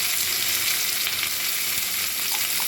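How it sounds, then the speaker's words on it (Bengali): Ivy gourd (kundri) fries in a pan with a dense, steady sizzle that stays even and close throughout, a few faint clinks rising briefly near the end, and no voices. "দেখো, আমার কুঁদরিটা অনেকটা ভাজা ভাজা হয়ে গেছে।"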